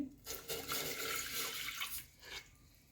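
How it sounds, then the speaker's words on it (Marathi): A steady stream of water, one glass, splashes into a metal pressure cooker, close and continuous for about two seconds before tapering off. "त्यामध्ये आता आपल्याला 1 ग्लास पाणी घालून घ्यायचं आहे."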